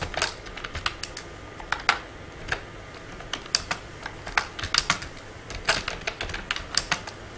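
Fast typing on a computer keyboard, close and clear, with irregular bursts of sharp key clicks and brief pauses between words.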